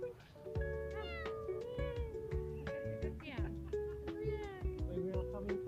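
Cat meowing repeatedly outdoors during fruit picking near Montreal, a run of close, clear meows in quick succession with people talking over them.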